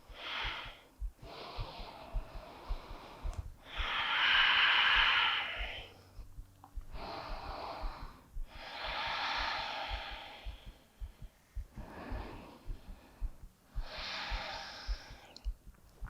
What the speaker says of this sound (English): Close your eyes, pause, observe, listen to your breath.